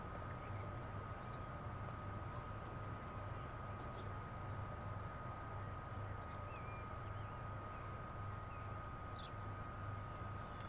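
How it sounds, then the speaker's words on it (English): A long freight train rolls past in Transport Fever 2, a low, steady rumble with a constant hum, quiet and unbroken throughout, with no speech. "so it's quite a long freight train"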